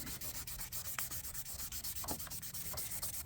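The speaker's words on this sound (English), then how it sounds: "I'm sanding the clear coat and not the actual color base coat" Close, steady wet sanding of a car's sun-damaged clear coat with soapy water, a rhythmic back-and-forth rasp, strokes repeating quickly and evenly throughout.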